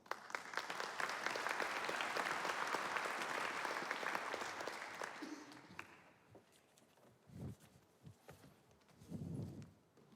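Audience applause fills a conference hall after a speaker is introduced at a planetary health and mental wellbeing event, loud and sustained for about five seconds before fading out, followed by a few soft thumps and shuffles.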